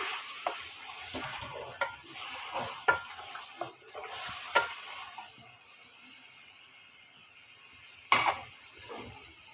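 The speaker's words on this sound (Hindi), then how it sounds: "अब मुझे दही रखी हुई थी जो मैंने 4 चम्मच दही ली है, 4 से 5 चम्मच, ये इसके अंदर हमने डालनी है और इसको भूनना है" A spoon stirs and scrapes yogurt into masala in a pot for beef pulao, the mixture sizzling as it fries, with repeated close scraping strokes over a steady hiss.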